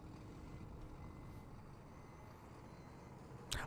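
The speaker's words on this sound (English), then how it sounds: "That's a tow truck." A tow truck idling nearby, a steady low rumble holding throughout, with a brief sharper burst right at the end.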